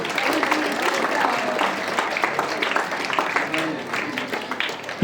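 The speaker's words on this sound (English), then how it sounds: "Give a big round of applause, our children." Schoolchildren applauding at a school assembly, a moderate, fairly even patter of many small hands with some voices mixed in.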